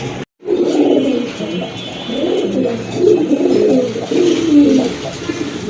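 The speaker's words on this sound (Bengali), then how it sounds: "এই যে দেখেন এক জোড়া চকো গ্রিজেল কবুতর" A pair of choco grizzle pigeons coos close by, with repeated soft throaty calls rolling on through the clip after a brief silence at the start.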